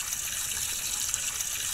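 Tap water runs for hand washing in Roblox Brookhaven, a steady hissing gush at moderate volume with no break and no talking.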